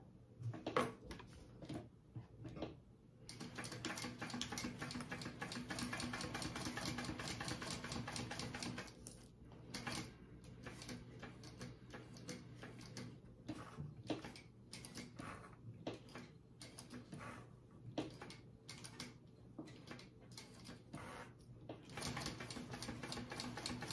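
A hand-cranked sewing machine stitches the corners of a crossbody bag, a steady rapid mechanical clatter of the needle running on and off in close, continuous bursts with short pauses.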